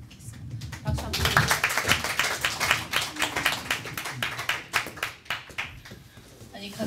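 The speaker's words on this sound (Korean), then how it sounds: "박수 한번." Dense audience clapping surges in about a second after the start and carries on as a steady, crisp round of applause, with a little murmuring underneath, at a live broadcast talk event with an invited author.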